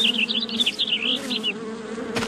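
Ground bees buzz from a hole in the ground in the Little Critter app game, a close, wavering insect drone that rises and falls in short bursts over a low steady background tone.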